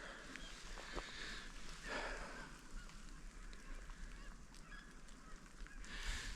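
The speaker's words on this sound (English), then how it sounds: "Lots of bird activity today, more than I've ever seen out here." Geese honk and other birds call across a rainy hillside ridge near an upper fire pit, faint and distant under steady rain hiss and wind.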